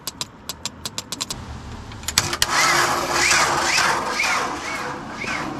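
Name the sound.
engine of 1992 JLG 60H 4x4 boom lift starting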